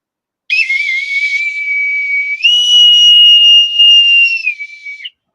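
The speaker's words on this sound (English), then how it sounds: "can I have a boatswain's whistle with that comment you just made?" A boatswain's pipe blown close and loud, a shrill steady tone that steps up to a higher pitch midway, holds, then drops back before cutting off, with no voices.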